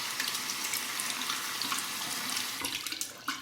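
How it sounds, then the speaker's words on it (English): Hot water runs from a tap to soak a shaving brush, a steady close splashing stream with small bursts near the end. "Let's take our brush, soak it under the hot water"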